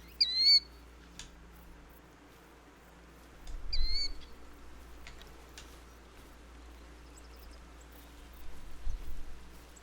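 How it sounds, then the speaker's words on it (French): Bird calls in The Hunter: Call of the Wild: two short bursts of high, chirping whistles, one at the start and one near four seconds, over a steady low ambient hum of the game's outdoor soundscape. "Putain, c'est quoi ces cris d'oiseaux, là?"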